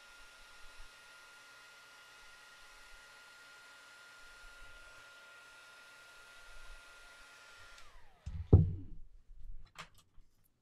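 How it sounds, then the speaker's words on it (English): A heat gun blows hot air over embossing powder with a steady, fairly quiet whooshing hiss for about eight seconds, then cuts off, followed by a few soft knocks and clunks. "here's the heat gun"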